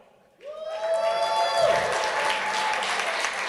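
Crowd applause and cheering at a live stream event for the Chery Tiggo 4 Pro, rising abruptly after a brief tone and holding as a thick, sustained roar of clapping and voices.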